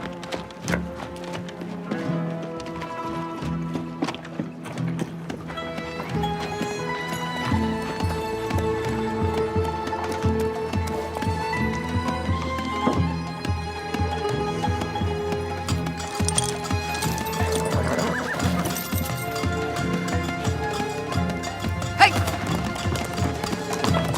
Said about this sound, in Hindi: आपका घोड़ा भी जीन के साथ आंगन में तैयार है।